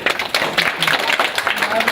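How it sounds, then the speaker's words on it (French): Applause at a small civic ceremony in France, broadband clapping running steadily for two seconds with voices talking over it. "On peut l'applaudir."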